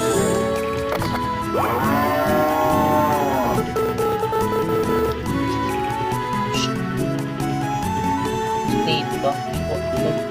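A cow moos in the farming game Harvest Moon DS: The Tale of Two Towns, a rising drawn-out call heard over steady looping game music, with no talk.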